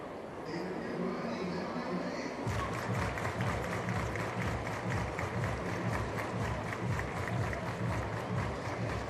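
A sellout crowd at a night baseball game in Tulsa, a broad, steady stadium roar with rhythmic chanting or clapping pulses, loud and continuous throughout.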